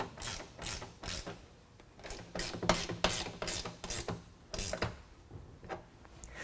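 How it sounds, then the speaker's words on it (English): A ratchet wrench with a 13mm socket tightens running board bracket bolts on a 2020 Ram 2500, giving repeated bursts of crisp, close clicking in an uneven back-and-forth rhythm with short pauses between strokes. "we can go ahead and tighten down these bolts with a 13mm"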